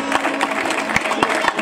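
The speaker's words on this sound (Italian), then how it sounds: "L'applauso per loro" Audience clapping for a folk music and dance group on an outdoor stage at a summer festival in Abbasanta, a brief steady patter of applause from a moderate crowd.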